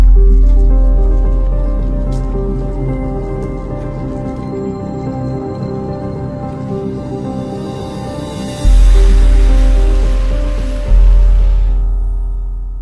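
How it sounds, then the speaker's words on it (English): Footsteps squish and splash steadily through rain on a half-mile walk in Afghanistan, loud and close, with constant dripping and a low wet rumble underneath, with no talking. "we're going to walk half a mile in the rain"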